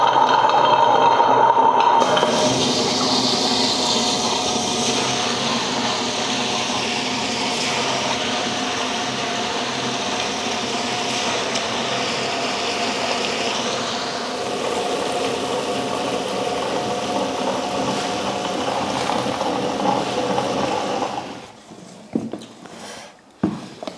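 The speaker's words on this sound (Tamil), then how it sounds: "நல்லா வலுவலுப்பாக இருக்கிற மாதிரி அரைச்சி எடுத்துக்கலாம்." Kitchen mixer grinder whirring steadily as it grinds soaked flattened rice (aval) into a smooth batter, a loud continuous motor drone lasting about twenty seconds before stopping, followed by a few clicks and knocks.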